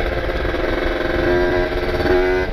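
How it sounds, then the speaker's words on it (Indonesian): A Kawasaki Ninja RR two-stroke with a ported engine and an ABRT20 galvanized expansion exhaust, buzzing steadily near idle with two short throttle blips that raise a tight nasal tone, close and alone. "Nah sekarang udah bisa narik-narik gas nih."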